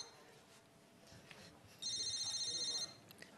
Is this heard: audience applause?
no